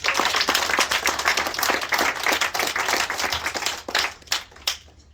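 Sustained crowd applause for a project supporter at a community gathering, dense and steady for about four seconds before thinning into a few scattered claps and fading out.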